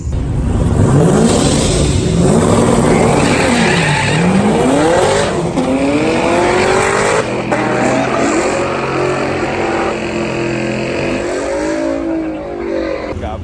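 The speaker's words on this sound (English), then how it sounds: "Look at this thing, supercharged Z06. Got the belt squeal for sure" A supercharged Corvette Z06 launches hard at a drag strip, loud and close, its engine climbing through rising revs with audible shifts and tire squeal, supercharger belt whine running over the roar throughout the run.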